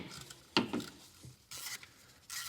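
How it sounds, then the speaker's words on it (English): A ratchet working the 10mm bolts off a transmission range sensor: a few brief, quiet metallic clicks and ratcheting bursts separated by pauses, with no talking. "Remove the center bolt. Then we have a bolt here and a bolt here, both 10mm bolts."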